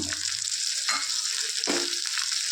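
Tomato frying with ginger and garlic in a pan for egg curry, a steady loud sizzle with a couple of scraping stirs cutting through, close and continuous with no voices.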